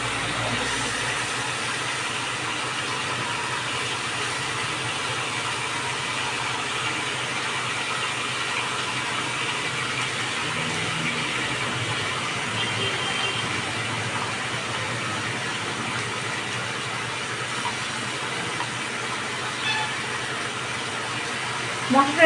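A paste of tomato and green chili sizzles and fries in spiced masala as a steady, loud hiss that runs unbroken throughout.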